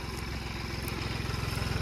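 A New Holland 3630 tractor engine idles steadily nearby, its diesel putter pulsing in an even, rapid rhythm throughout, with no speech over it.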